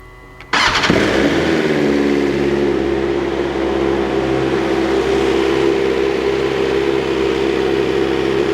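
A 2021 BMW S1000R fitted with an Arrow Pro Race titanium exhaust fires up abruptly, then runs loud and close at a steady, rumbling idle for several seconds with no talk.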